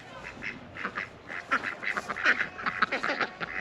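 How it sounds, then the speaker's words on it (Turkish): Ducks in a hobby poultry coop in Kastamonu, Taşköprü, quack in a lively overlapping chatter of short nasal calls, fairly close and moderately loud on a summer day. "Vak vaklar."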